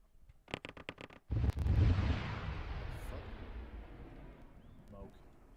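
Arma 3 infantry combat with incoming tracer fire: a quick burst of sharp shots followed by a heavy booming blast that rolls and slowly decays, heard fairly distant and quiet.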